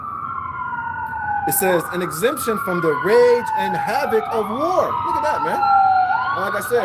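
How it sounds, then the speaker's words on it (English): Emergency vehicle sirens wailing along a city street, rising and falling continuously in the background while someone talks loudly over them. "you can hear the sirens in the background"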